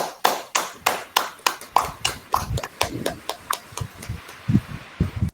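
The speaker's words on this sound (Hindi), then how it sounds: "सो तालियां उनके लिए।" Audience clapping for a poet at an inter-departmental college event, a steady run of rhythmic claps, fairly close, slowly thinning and softening toward the end.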